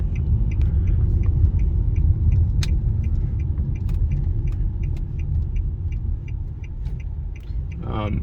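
Inside a 2010 Infiniti G37 sedan on the road, a low steady road and engine rumble fills the cabin while a light rhythmic jingle of keys taps along throughout.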